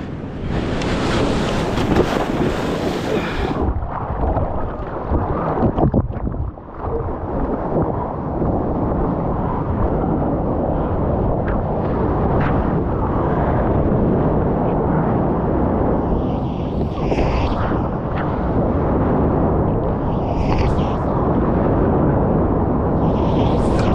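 Ocean waves and surf wash continuously around a surfer on a foggy, glassy day at Hossegor, with loud wind buffeting the microphone throughout and a brief quieter dip partway through.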